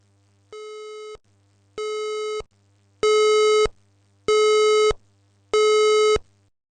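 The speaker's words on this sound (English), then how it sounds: "The alert tone is identified by a beep beep." A fire alarm's electronic alert tone beeps five times in a steady rhythm, each long buzzy beep separated by a short gap, growing louder after the first two.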